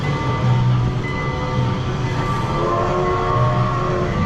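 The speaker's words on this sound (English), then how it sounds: "we just noticed over on the right, we've got the land train" Land train rolling past at IMG Worlds of Adventure theme park in Dubai, a steady low rumble and drone with faint tonal hums throughout, fairly close and continuous with no talk.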